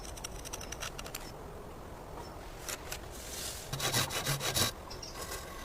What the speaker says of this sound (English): Precise cuts like these I like to start and end with a Japanese handsaw.